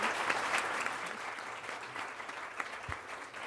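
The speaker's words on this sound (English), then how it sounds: "Let's give our panelists a strong round of applause." An audience applauds a panel of speakers at a summit on prosperity and poverty, with steady, dense clapping that carries on evenly for several seconds without fading.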